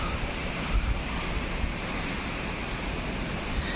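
Steady broadband rush of a waterfall at the Agasthiyar Siddhar temple, a continuous close hiss of falling water with a low rumble and no voices.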